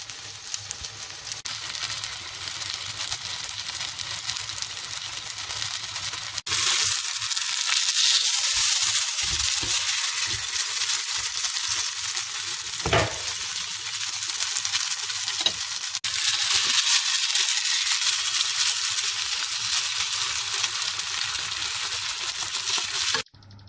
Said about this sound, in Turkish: Her bir tarafını yaklaşık 2 dakika Kızgın yağda kızdırıp mühürleyeceğim.